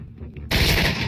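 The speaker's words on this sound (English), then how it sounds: "but you actually hear like an M16 going off." An M16 gunfire sound effect from The Terminator film bursts in abruptly after a near-silent moment as a loud, dense volley of rapid shots that holds steady to the end.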